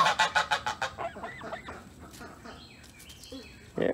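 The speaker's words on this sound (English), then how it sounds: "It's actually just Canada goose." A Canada goose honks in a rapid series of loud, close nasal calls, then goes quiet under faint background murmur before another harsh honk bursts out at the end.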